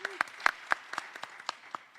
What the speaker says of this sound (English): Our good friend Bobby Dicello, give him a round of applause